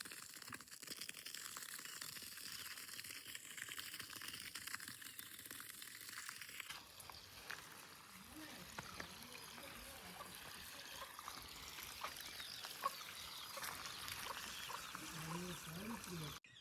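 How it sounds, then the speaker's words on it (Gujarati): Water is sprinkled from a running hose onto the ground in front of a house to cool it, a steady hissing spray and pattering trickle that continues throughout, with background noise and some voices. "પાણી ચાલુ થઈ ગયું છે."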